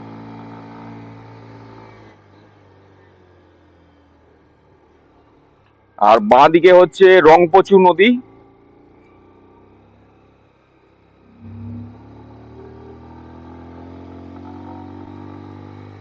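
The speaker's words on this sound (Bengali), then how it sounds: "আর গাড়ির আওয়াজটা শোনো" A low motorcycle engine drones steadily as the bike climbs a steep uphill road toward Rishop, fading in and out, with someone briefly speaking over it midway.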